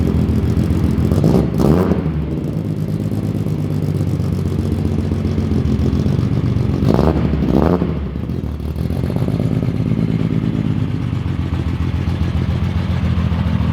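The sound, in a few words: Datsun car exhaust while driving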